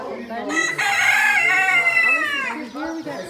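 Chickens, including silkies, crow and cluck at a small animal livestock auction; a loud rooster crow dominates near the start, followed by shorter clucks and calls close by.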